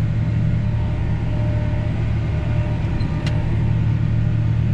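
A John Deere S690 combine harvester harvesting corn drones from inside the cab, a steady low rumble of engine and machinery running continuously with no talk.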